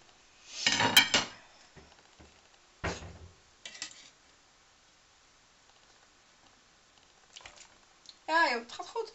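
A knife cuts food on a large plate, making a few short clinking and scraping bursts with pauses between them, while people talk nearby.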